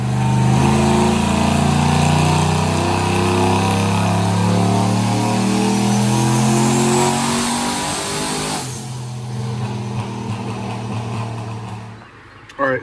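A tuned car engine running on E85 fuel in a full pull, revving hard and loud with a steadily rising tone for about nine seconds, then dropping off to a lower idle-like rumble that fades.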